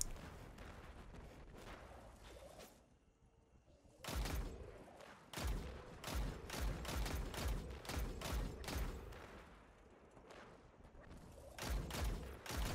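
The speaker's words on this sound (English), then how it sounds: "I was just spamming the Arbalest linear fusion rifle to try to take down these acolytes" The Arbalest linear fusion rifle fires repeatedly in a Destiny 2 Nightfall battle in the Scarlet Keep, with loud booming bursts in quick clusters and short lulls between them, set against a dense game-combat din.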